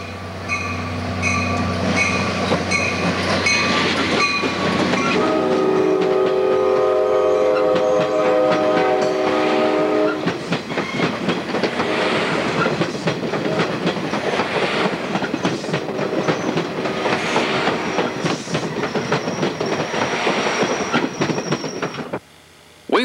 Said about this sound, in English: We'll close out this event with one more of those shiny VRE trains.